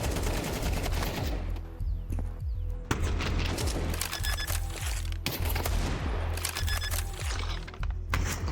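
Counter-Strike gunfire on the Inferno map during a professional match. Loud, sustained bursts of automatic rifle fire with sharp single shots and thuds come in dense, repeated volleys, broken by a few brief pauses.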